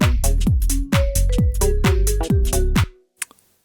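Minimal tech house loop with no processing on the master chain, its punchy kick and clicky percussion hits repeating in a steady groove with a tonal synth line over them, loud and close, then cutting off into a few faint ticks.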